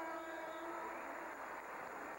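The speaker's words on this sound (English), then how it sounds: "Whistle blows again, and they've called time again." A referee's whistle sounds as a long, loud, steady blast during a 1979 college basketball game between Wichita State and Indiana State, with arena noise behind it.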